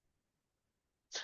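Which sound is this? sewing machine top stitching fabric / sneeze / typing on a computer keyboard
sneeze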